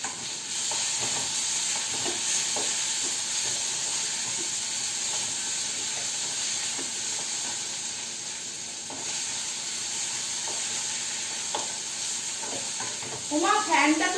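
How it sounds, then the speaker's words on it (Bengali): Tomato is added to onions frying in oil in a home kitchen, producing a steady close sizzle and hiss with occasional stirring scrapes, and a louder burst near the end. "এবার টমেটোটা দিয়ে দেবো।"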